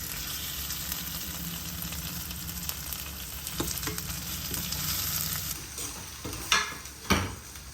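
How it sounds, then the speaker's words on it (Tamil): Okra, about a quarter kilo, sautéing in oil in a pan for a prawn curry, giving a steady close sizzle with a few louder stirring scrapes and clatters near the end, no voices. "இப்போ வெண்டைக்காய் போட்டு ஒரு 2-3 மினிட்ஸ் நல்லா வதக்கிட்டு"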